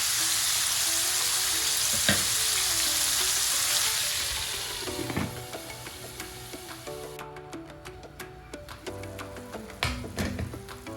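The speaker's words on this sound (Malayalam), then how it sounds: "ഇനി ഈ മീറ്റ് മീഡിയം ഫ്ലെയിമിൽ വെച്ചിട്ട് നമുക്കൊന്ന് കുക്ക് ചെയ്തെടുക്കാം." Steak meat frying in cooking oil in a pan over a medium flame: a loud, dense sizzle at first that eases to a quieter crackle, broken by occasional clinks and scrapes.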